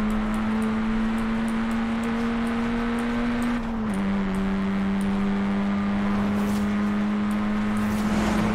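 A 2018 Honda Civic Type R engine in Forza Horizon 5 drones at high speed on a toll road, a steady buzzing tone that dips briefly as a gear shifts, then holds again, loud and constant with no talk.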